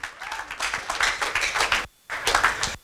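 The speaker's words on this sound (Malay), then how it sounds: "Beri tepukan kepada semangat angsa laut Elken." An audience claps in a burst of applause at a corporate gathering, dense and lively, cutting off briefly before a second short wave of clapping resumes.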